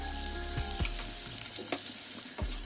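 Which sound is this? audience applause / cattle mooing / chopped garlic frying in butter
chopped garlic frying in butter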